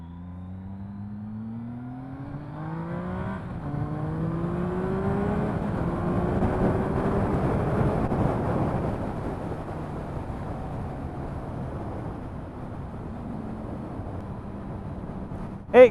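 A 2016 Triumph Speed Triple R, a triple-cylinder motorcycle, accelerates hard and close by, its engine note climbing in pitch through several gear changes before settling into a steady drone, with no talking.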